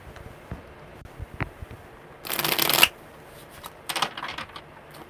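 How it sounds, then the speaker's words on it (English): Tarot cards are handled with a few soft taps and slides, then a brisk riffle shuffle bursts out for about half a second, followed by lighter card shuffling, close and quiet. "One more good shuffle."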